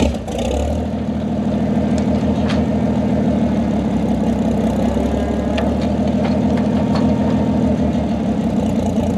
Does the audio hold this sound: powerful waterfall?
no